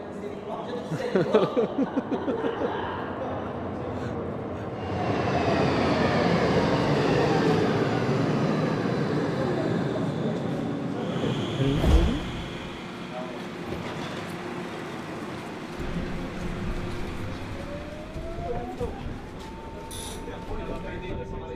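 A metro train in Poland pulls away and rides through a tunnel, a loud rising rumble with clanks and squeals, then settling into a steadier hum and a rising whine, with a voice speaking over it.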